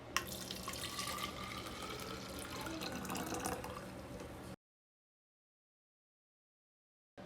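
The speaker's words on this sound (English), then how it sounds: "Pour 1 cup of boiled water into blender." Boiled water pours into a blender while making taro bubble tea, a steady splashing stream for about four and a half seconds before cutting to silence.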